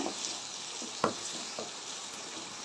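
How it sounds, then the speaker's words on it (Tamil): Two large onions sautéing in hot oil with fenugreek in a pan for a spicy manathakkali and brinjal kulambu, a soft steady sizzle with a few faint stirring knocks, close and quiet. "ரெண்டு வெங்காயம் பெரிய சைஸ் வெங்காயம் சேர்த்துருக்கேன் அதையும் நல்லா சேர்த்து வதக்கிக்கோங்க"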